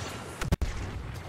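Close, punchy Star Wars Battlefront 2 blaster fire sounds in a brief cluster of two or three sharp blasts mid-clip, over a constant battlefield rumble.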